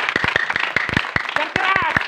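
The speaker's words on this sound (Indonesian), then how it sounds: "Tepuk tangan buat Tuhan." Church congregation clapping hands in sharp, irregular claps, close and fairly loud, with voices speaking and calling out between and over the claps.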